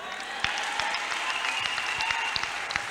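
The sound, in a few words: audience applause offered to the Lord in church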